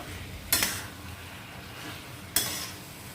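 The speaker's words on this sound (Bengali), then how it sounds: "চিকেনটাকে মশলার সাথে ভালো করে মাখিয়ে নেব" Marinated chicken being mixed with spices in a pan for Bengali chicken kosha: a low sizzle runs under two sharp scraping strokes of a spoon through the pan, about two seconds apart.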